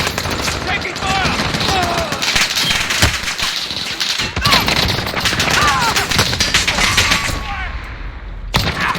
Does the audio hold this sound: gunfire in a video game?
yes